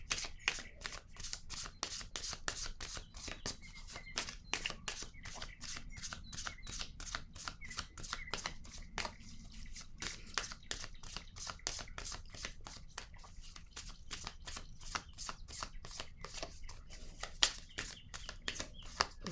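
Tarot cards shuffled by hand in a steady run of crisp, rapid riffling snaps, repeating close and clear for the whole stretch with no voices.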